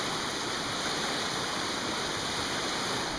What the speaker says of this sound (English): Yeah, that's a substantial amount of water